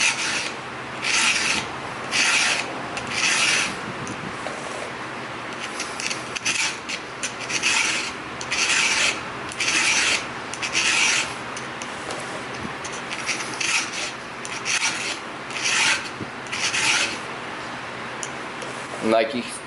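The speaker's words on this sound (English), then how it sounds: "I lift the file off on my backstroke." A hand file sharpens the teeth of a chainsaw chain in steady, evenly spaced rasping strokes, each pushing in one direction only. Quiet pauses fall between strokes, and someone speaks intermittently throughout.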